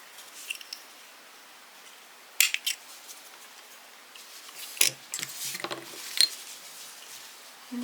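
A few quiet snips of scissors cutting yarn, two small clusters of short metallic cuts against near silence.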